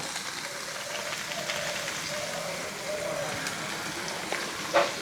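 Chopped tomato, salt and Kashmiri chilli powder fry in a pan for a Bengali pomfret curry, giving an even, continuous crackling sizzle at low level, with a brief louder clatter near the end.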